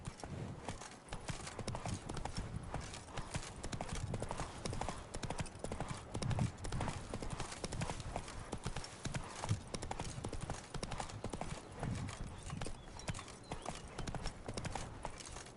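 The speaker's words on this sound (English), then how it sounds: "Run, Roach" A horse's hooves pound in a fast, steady galloping rhythm throughout, close and continuous, from the video game The Witcher 3.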